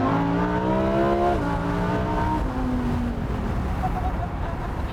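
A 2017 Lamborghini Huracan RWD Spyder (LP580-2) accelerates hard on a public road, its loud engine rising steadily through the revs, then dropping after a gearshift and climbing again close to the cabin.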